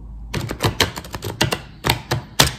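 Cards from a Wandering Star Tarot deck being shuffled and drawn, a quick run of crisp snapping and tapping clicks in close succession, close and fairly loud, with no talking.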